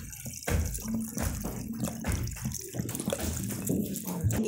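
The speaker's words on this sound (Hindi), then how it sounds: "अब इसको ऊपर आपने जल्दी से जल्दी आपने ठंडा पानी ऐड कर देना है फ्रिज वाला इस तरह से" Cold water from the fridge poured quickly into a cooking pan while making potato zarda, a steady splashing pour running throughout, close and moderately loud, with no talking.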